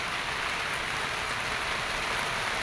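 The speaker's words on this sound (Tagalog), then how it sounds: "Grabe ulan." Steady, dense downpour of heavy rain, a constant hiss with no pauses, close and loud throughout.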